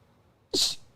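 A single sharp human sneeze, close and sudden, bursting out of near silence and fading quickly, during a live talk show.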